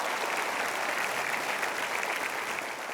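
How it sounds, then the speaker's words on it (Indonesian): An audience at an Indonesian talk show gives a dense, steady round of applause. The clapping is even and sustained throughout, with no pauses. "Sekali lagi kita berikan aplaus"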